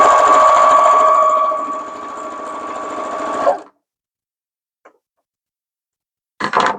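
A sewing machine stitches scrap fabric pieces in a loud, fast steady run that slows and stops, followed by silence, a tiny click and a short burst of renewed stitching.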